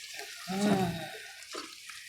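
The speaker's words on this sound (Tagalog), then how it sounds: "Let's add water to cook our chicken." Water splashes and gurgles briefly into a cooking pot of native chicken at close range, a short pour followed by a few smaller drips.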